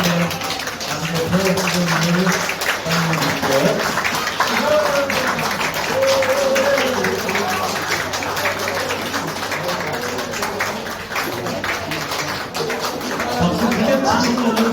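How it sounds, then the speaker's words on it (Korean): Sustained, dense applause fills a meeting room as party members at a Democratic Party gathering in Gyeongbuk clap together, steady and loud throughout with little variation. "박수 크게 부탁드립니다"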